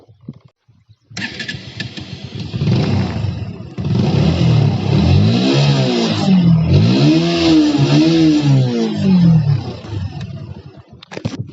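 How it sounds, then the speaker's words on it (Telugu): A Bajaj Pulsar NS125 motorcycle, just back from servicing, starts up and its exhaust revs in several rising and falling bursts, loud and close, before settling back to idle, with no voices. "ఇప్పుడు ఒకసారి ఎగ్జాస్ట్ నోట్ వినిపిస్తా"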